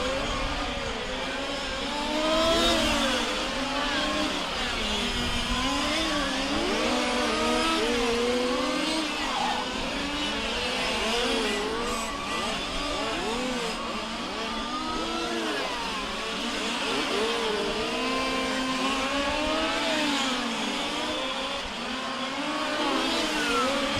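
Large-scale RC race cars at a world championship finals, with small engines buzzing and revving in overlapping waves as several cars circle the track, loud and continuous.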